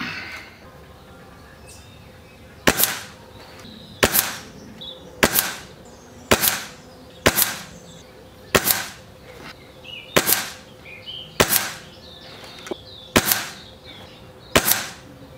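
Air Arms TX200 springer air rifle firing domed 8.48-grain pellets: eleven sharp, close cracks at roughly one-second intervals, each followed by a brief thud, with quiet background between shots.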